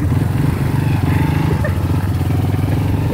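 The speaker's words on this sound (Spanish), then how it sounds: "La moto." A motorbike engine runs steadily at close range, a continuous low droning rumble with slight rhythmic pulsing, with no pauses through the whole stretch.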